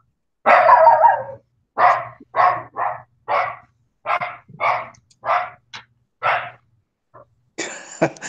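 A dog barks repeatedly and loudly in a quick string of about a dozen separate barks, close by, with a brief rougher burst at the end and no talking.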